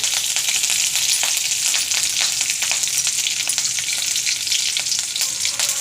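Onion sizzles in hot oil with mustard seeds, urad dal and curry leaves, tempering for a fish curry. The frying is steady, close and loud, with crackling pops over a continuous hiss and no voices.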